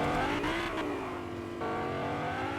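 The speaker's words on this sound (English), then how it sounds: "I'm always worried about the car when I hear them like revving too much" Car engine revving in the Fortnite video game, a steady loud motor drone with rising and falling pitch across the whole stretch, alone without talk.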